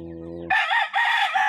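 A rooster from a sibling's backyard flock crows loudly and close by in a drawn-out two-part call, following a brief low tonal sound at the start.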